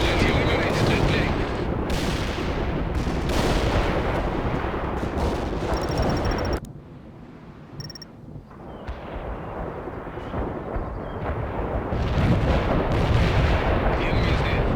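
Battle in the strategy game World in Conflict: loud, continuous artillery and gunfire booms and rattles, a brief quieter lull midway with faint beeps, then heavy firing resumes, with in-game radio voices speaking over it.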